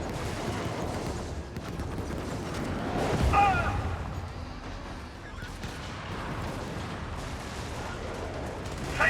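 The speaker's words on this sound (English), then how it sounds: "So I'm going to drop a cannon over here on that wall." A cannon turret in the video game Helldivers fires heavy, booming rounds in a continuous barrage of artillery blasts, with a voice talking over the steady roar.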